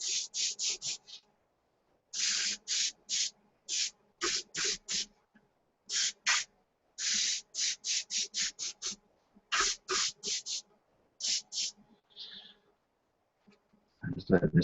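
Airbrush or spray can hissing paint onto a 1/72 scale SU-34 model aircraft kit, many short close sharp bursts in an uneven rhythm with brief pauses, ending in handling noise.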